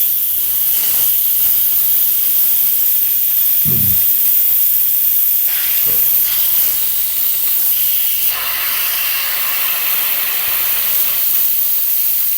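An Instant Pot vents steam on quick release while cooking Italian sausage soup with rice, giving a loud, continuous hiss throughout with faint sputtering from the rice starch and a few brief knocks underneath.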